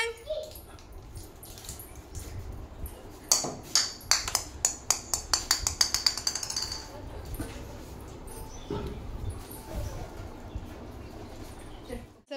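A puppy whimpers and yips in a quick run of short high cries amid a village outdoor setting, with people talking around it and a faint background hum.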